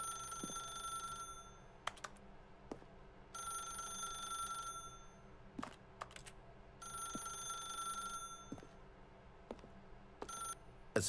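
A telephone in the video game The Stanley Parable rings in repeated bursts of bright electronic trilling with short silent gaps and scattered clicks between them, clear and fairly loud.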